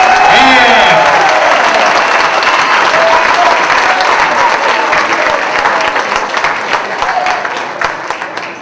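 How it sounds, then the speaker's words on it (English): A school auditorium audience at a 7th and 8th grade winter band concert breaks into loud, sustained applause, strong at first and gradually thinning toward the end, with a voice briefly heard at the start. "Nice round of applause for these guys."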